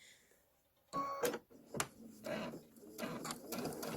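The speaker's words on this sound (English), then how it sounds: "I just sew it right down, just like that." Domestic sewing machine stitching down a chambray tote bag, with short close bursts of whirring and clicks in an uneven rhythm, fairly quiet and without talk.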